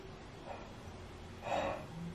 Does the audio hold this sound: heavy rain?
no